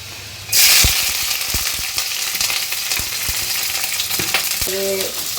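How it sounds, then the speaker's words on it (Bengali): Paneer dish sizzling and frying in a pan with pepper powder, steady loud hiss after the ingredients hit the oil, with scattered clicks and stirring knocks and a short tonal beep near the end. "এখন এটাকে তুমি এদিকে ফ্রাই করো"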